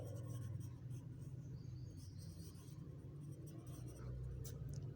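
Pen or pencil moving over paper as words are written by hand, a soft continuous scratching with a few faint ticks, quiet and steady over a low background hum, no one speaking.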